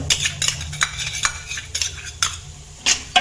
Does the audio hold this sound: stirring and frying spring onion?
yes